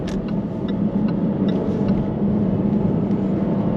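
Jaguar F-Type V6 (X152) with ZF 8-speed torque-converter automatic cruising on a dual carriageway: a steady, continuous low engine and road rumble filling the whole stretch, no voices.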